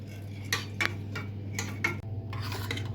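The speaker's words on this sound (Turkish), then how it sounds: "Sonra ocağa koyup karıştırarak kıvam alana kadar pişirelim" Starch pudding being stirred in a pot on the stove, a utensil scraping and clinking against the pot in several distinct strokes over a steady low hum, with no talking.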